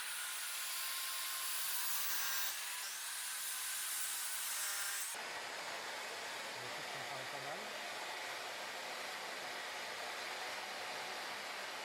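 A Bosch GCM 8 SJL radial miter saw runs with a loud, steady motor roar as it cuts through a wooden batten, the tone shifting about halfway through as the blade bites, with no voices.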